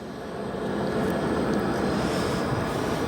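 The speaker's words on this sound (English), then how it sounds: "with aircraft passing over" Aircraft passing overhead at O'Hare Airport at about 7,000 feet, a steady broadband engine roar that swells and holds loud and even throughout, with no voices.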